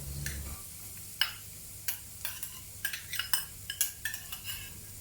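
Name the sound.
sauteing onions and cumin seeds in a pan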